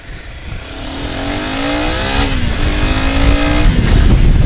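A Royal Enfield Himalayan 450 motorcycle engine revs up from a moderate drone to a loud, rising whine, its pitch climbing steadily and briefly dipping before swelling again, close by and without speech.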